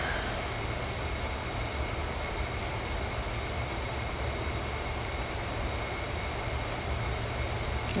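Avro Vulcan bomber flying overhead in the Mach Loop, a steady broad jet engine roar that holds constant and loud throughout with no talk.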